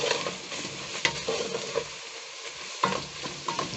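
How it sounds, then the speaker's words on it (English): Beef simmering in a pan with potatoes, pilipili and Royco seasoning, a steady soft sizzle broken by scraping stirs, with a brief quieter stretch before the stirring resumes, close and moderately loud with no talking. "We let it simmer for a few minutes."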